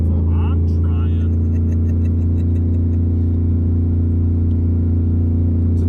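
A single-turbo 2018 Mustang GT engine holds a raised, steady rpm, giving a loud, close, droning hum. A few brief chirps and faint voice-like sounds come near the start.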